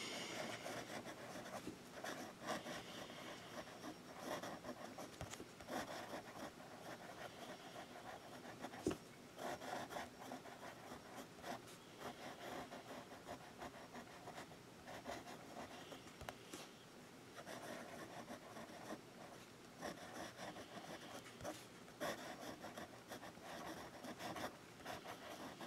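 An extra fine nib fountain pen scratches continuously across paper in looping swirls, a faint dry rasp that stays close and steady with small irregular pulses.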